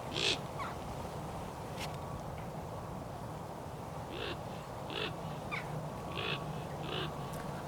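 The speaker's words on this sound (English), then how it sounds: "the crows were still obviously in the area" Hooded crows calling in the open countryside, a scattering of short harsh caws at a middle distance over a steady broadband background hiss, with several calls bunched toward the end.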